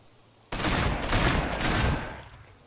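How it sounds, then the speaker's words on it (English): Crack grenades exploding in the Warhammer 40k game Gladius: a sudden loud burst of layered blasts that erupts after a short quiet moment and sustains as a rumbling fusillade for about two seconds before tapering off. "Right, so you use your crack grenades."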